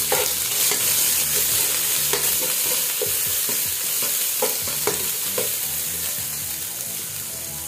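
Onion frying in a hot pan alongside garlic while cooking beef broth with mung beans, with a steady bright sizzle and repeated scraping stir strokes throughout, close and loud, with no voices.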